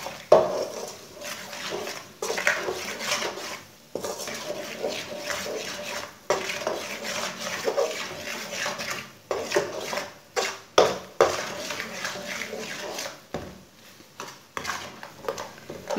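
Spices stirred and roasted in a pan for chana daal palak, with a spoon scraping and clinking against metal in irregular strokes amid a faint sizzle, close by and without talk.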